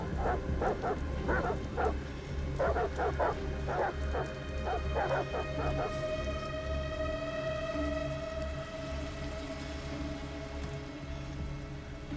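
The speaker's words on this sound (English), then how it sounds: "Goddamn dogs. What the fuck are they barking at?" Dogs bark in Detroit: Become Human during a storm, several sharp barks and yips in irregular bursts over steady falling rain, then fading out while the rain and a sustained tone continue.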